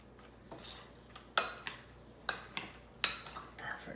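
Spoon or utensil clinking and scraping against a bowl while tossing a Polish cucumber salad, several sharp close knocks and stirring sweeps in an irregular rhythm, fairly quiet overall.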